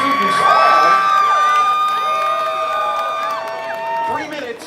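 A crowd cheers and whoops loudly and continuously at the Trenton Thunder's Case's Pork Roll eating contest, with shouted voices and high yells rising over the sustained roar throughout.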